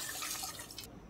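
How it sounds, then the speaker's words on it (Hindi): Three cups of water pour steadily into a cooking pan that just held fried onions, for dal pulao, a continuous close splashing rush that cuts off abruptly near the end; no speech. "3 कप पानी डाल दूंगी"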